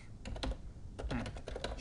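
Typing on a computer keyboard, a short close burst of uneven key clicks with faint background noise.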